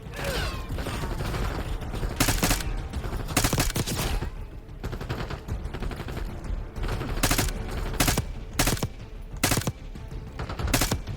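Rapid gunfire in Call of Duty: Black Ops 6 during an ambush, with dense automatic bursts and repeated sharp loud shots cracking over a constant loud battle din.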